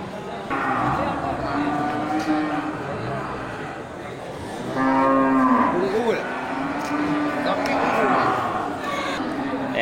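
Limousin cattle at a farm lowing repeatedly, with long drawn-out moos from nearby animals, one louder call in the middle, over steady background chatter and barn noise.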